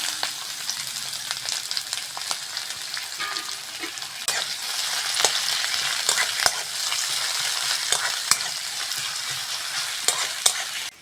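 Onions frying in mustard oil in a wok, a steady bright sizzle with occasional scraping and stirring clicks, close and fairly loud, no talking over it.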